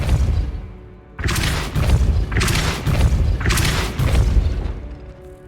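The Depulso spell lands in Hogwarts Legacy as three heavy booming impacts in quick succession, each a deep thud with a crashing burst that fades into a short tail before the next blast.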